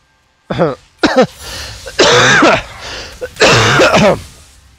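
Several harsh throat clearings and coughs in quick bursts, close and loud, separated by short pauses, during a League of Legends game.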